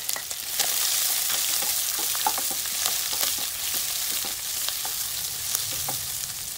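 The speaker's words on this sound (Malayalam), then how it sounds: "കുറച്ച് ഉപ്പ് കൂടെ ചേർത്ത് നമുക്കിതിനെ നന്നായി വഴറ്റിയെടുക്കണം" Chopped onion, green chillies, ginger and garlic sautéing in a pan, a continuous close sizzle broken by frequent sharp scrapes and taps of a spatula, with no voices.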